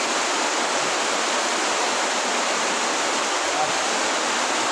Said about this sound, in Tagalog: Lakas ng ulan mga idol.